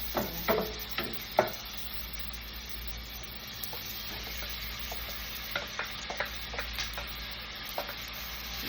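Sardines and tomatoes sizzle steadily in a frying pan while being stirred, with scattered utensil clicks and scrapes over the constant frying hiss; no one speaks.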